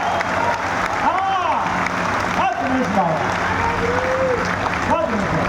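Audience clapping at a Hindi poetry recitation during the Chakradhar Samaroh festival, a steady dense wash of applause continuing throughout, with a voice speaking over it.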